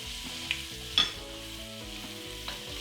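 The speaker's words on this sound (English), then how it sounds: "Give this a stir to release the flavors from the garlic and the ginger" Onions, ginger and garlic frying in a pot for chicken soup give off a steady sizzle, with a few soft knocks from a utensil as they are stirred; no voices.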